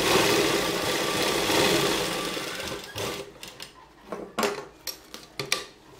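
A sewing machine stitching a pregnancy dress runs in a close, loud, continuous whir for about three seconds, then slows into a few separate bursts and clicks; no voices.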